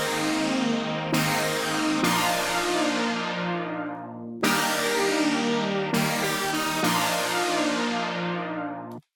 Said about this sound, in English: The chord progression is the same throughout the entire song